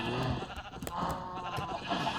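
Sheep in a survival video game bleating repeatedly, close and clear, with only faint background beneath the calls.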